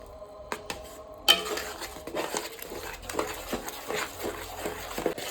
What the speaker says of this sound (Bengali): এবার আমি খোয়া ক্ষীরটাও দিয়ে দেবো। ভালো করে এবার মিশিয়ে নেব।